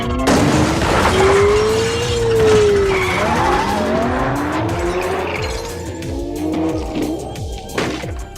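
A car swerves sharply during a chase, tires squealing in a long rising and falling screech over a loud engine roar, followed by further skidding and a jolt near the end.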